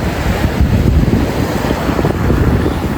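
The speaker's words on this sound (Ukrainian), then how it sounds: "дивіться, яке класне море" Sea waves wash steadily onto a pebbly volcanic-sand beach in Italy, a broad continuous roar heavily buffeted by wind noise on the microphone, with no one speaking.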